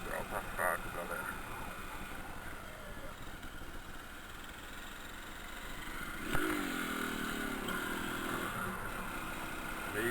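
A motorcycle engine revs as the rider pulls a wheelie, a rising mid-pitched engine drone that swells partway through, with someone talking over it.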